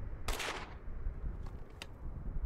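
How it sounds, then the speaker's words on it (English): A cartoony video-game explosion in the Ao Oni South Park bonus, a single sharp burst followed by a short decaying rumble and a couple of faint later pops over low background noise. "His body went smithereens. In a cartoony explosion thing."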